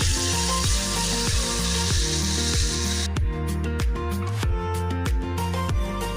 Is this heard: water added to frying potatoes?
yes